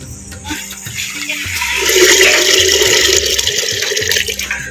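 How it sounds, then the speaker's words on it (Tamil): Two and a half litres of water poured into a cooking pot for country rooster soup, a steady gushing splash that swells louder after the first two seconds and keeps rushing to the end. "ரெண்டரை லிட்டர் தண்ணி வந்து இப்போ ஊற்றுறோம்"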